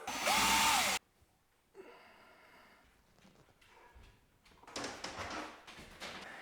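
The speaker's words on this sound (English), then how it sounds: "I'm just going to pre-drill out all the holes at 800" A power drill pre-drills a hole in hardwood while a grow room is being set up, giving a single loud, close whine of about one second. Quieter clicks and handling clatter follow.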